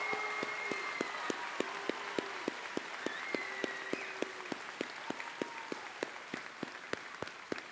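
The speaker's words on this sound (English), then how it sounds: "Please give them your applause." Applause for graduating high school seniors at a graduation ceremony, a steady wash of clapping from a large audience with distinct sharp claps standing out, continuing throughout without speech.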